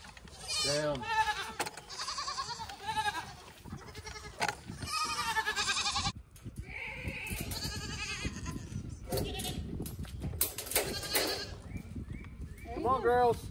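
Goats on a farm bleating loudly and repeatedly close by, overlapping calls mixed with a person talking and calling to them.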